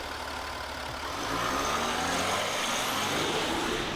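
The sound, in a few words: 2018 Ford F-150 Power Stroke diesel engine idling outside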